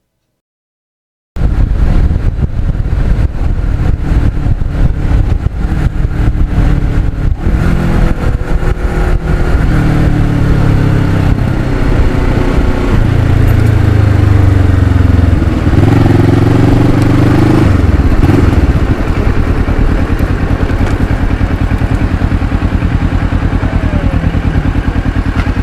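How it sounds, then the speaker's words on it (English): A restored 1986 Kawasaki GPZ 1000 Ninja runs loud and close while being ridden, its engine note rising and falling through revs and gear changes with a steady mechanical clatter and no talk over it. "Now, Luciano wanted to head out on his GPZ 1000 that he just finished restoring"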